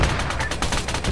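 Heavy .50 cal machine guns fire in sustained, dense bursts in an Arma military combat game, loud and continuous through the whole stretch with no talk over it.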